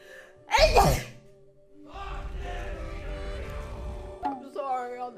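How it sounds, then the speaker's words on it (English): One sharp, loud sneeze bursts out near the start, followed by muffled rustling and a brief vocal sound. "I'm sorry, I'll never sneeze again."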